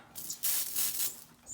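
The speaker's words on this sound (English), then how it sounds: "spray to disinfect everything" A pump sprayer mists F10 disinfectant in short bursts of hiss, close and fairly loud, with a brief pause between sprays.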